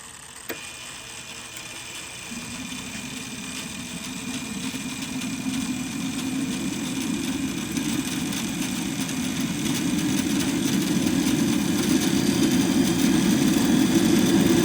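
An RC Starwood Lama helicopter turbine engine spins up from near quiet after a click, rising into a steady whining, humming idle that grows gradually louder and stays close, with no speech.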